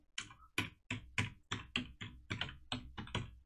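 Keys clacking on a computer keyboard in a run of about a dozen distinct, evenly spaced strokes, close and clear with no voices.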